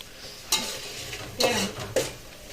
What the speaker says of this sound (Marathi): आणि चालली माझी ग्रेव्ही मस्त अशी तेल सुटेपर्यंत तळून घेण्याची